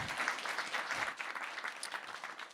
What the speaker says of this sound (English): big round of applause for Robert